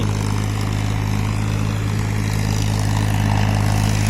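A steady, loud low tractor engine drone with a constant throb, running continuously without pause on a farm in an Indian village, no voices.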